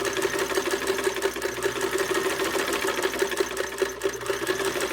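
A Davis Made Unique sewing machine runs continuously with a fast, even mechanical whir and rapid stitching pulse, close and moderately loud, with no talking.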